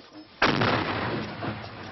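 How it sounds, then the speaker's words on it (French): An artillery shell explodes about 20 metres from a village house, a sudden loud blast followed by a long rumbling, echoing decay. "Un obus vient de tomber à 20 mètres de la maison."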